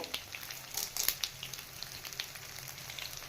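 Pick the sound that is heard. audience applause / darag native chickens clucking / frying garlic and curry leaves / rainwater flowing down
frying garlic and curry leaves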